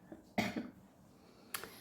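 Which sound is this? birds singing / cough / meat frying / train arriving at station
cough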